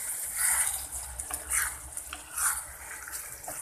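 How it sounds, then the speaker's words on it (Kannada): Tamarind water boiling in a cooking pot for tamarind rice, a soft continuous bubbling and watery hiss with a few louder swells, steady and close, no talk. "ನೋಡಿ ಚೆನ್ನಾಗಿ ಕುದಿತಿದೆ."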